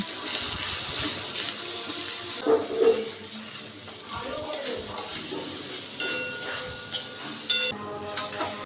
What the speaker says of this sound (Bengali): এবার এর মধ্যে আদা বাটা রসুন বাটা দিয়ে দিলাম সাথে দেব জিরে গুঁড়ো হলুদ গুঁড়ো লঙ্কা গুঁড়ো আর টমেটো কুচি